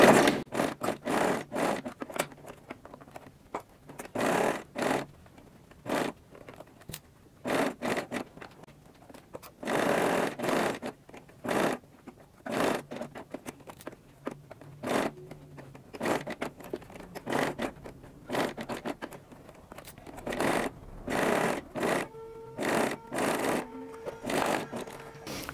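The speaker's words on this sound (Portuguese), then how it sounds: "Então, vamos agora pregar esse zíper." Bursts of stitching from a sewing machine sewing a zipper onto a fabric pouch, short runs starting and stopping repeatedly with pauses between, close and fairly quiet.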